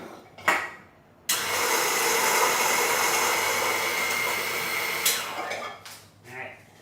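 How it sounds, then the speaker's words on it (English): Electric grinder steadily grinding roasted coffee beans, a continuous buzzing whir lasting about four seconds after a brief knock, then stopping, followed by faint handling sounds nearby. "let me grind a little bit more to make sure I can fill the sample plate entirely"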